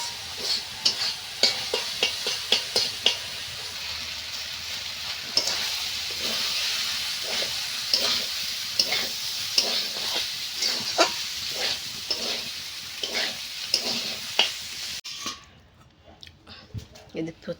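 Cold cooked rice frying with vegetables in a pan, a continuous sizzle with repeated rhythmic stirring scrapes and clacks, close up, the sizzle dropping away near the end.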